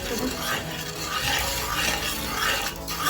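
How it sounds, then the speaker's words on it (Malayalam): Thick onion lehyam being stirred in a pan: continuous wet, sticky scraping and churning, close and fairly even, with a faint voice in the background. "ഇളക്കി കൊടുക്കുക."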